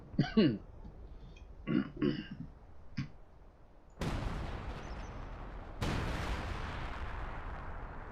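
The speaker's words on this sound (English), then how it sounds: "Bombing run. That should finish it off." Two heavy explosions from a bombing run in the Company of Heroes 2 strategy game, each a sudden broadband blast followed by a sustained rumbling roar, arriving after scattered gunfire and short vocal sounds.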